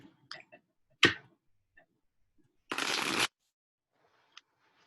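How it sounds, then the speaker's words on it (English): Tarot cards being shuffled during a card reading, a short riffle burst near the start and a longer dense riffle later, close and crisp, separated by quiet pauses with a few small taps and clicks. "I like shuffling."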